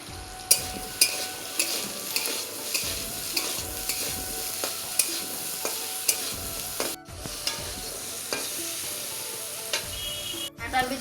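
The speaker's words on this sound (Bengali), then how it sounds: "কাঁঠাল বিচি ভাজার জন্য সরষের তেল দিয়ে দিব।" Jackfruit seeds fry in hot mustard oil with a steady sizzle, while a utensil stirs them in repeated scraping strokes roughly every second; close and continuous, with no talking.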